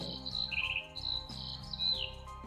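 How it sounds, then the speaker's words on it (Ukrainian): Skylarks sing in open fields and meadows, giving a steady run of high, bright chirps and trills against a soft continuous tonal background. "Маленькі сірі жайворонки поспішають звеселити своїми срібними голосами поля та луки."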